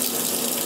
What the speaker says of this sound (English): You'd be pouring in your developer